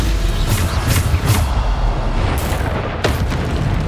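Bombarda blasting spell explosions going off in Hogwarts Legacy combat, a loud run of deep booms and bursts layered over constant battle noise, with several sharp blasts spaced about half a second apart.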